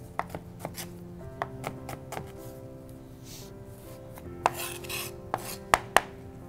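A knife chops vegetables on a cutting board in a series of crisp, close knocks, irregular at first and then in quicker clusters, over a faint background hum and with no talking.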